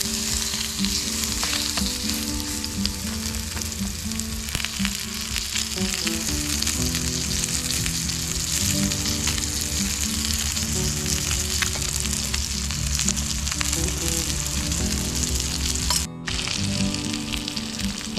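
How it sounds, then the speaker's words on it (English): Pieces of food sizzle and spit steadily in a pan of hot oil at a state park campsite, a loud continuous close-up fry with crackling bursts and no talk over it. "That's how we know we got that pan and the oil hot enough."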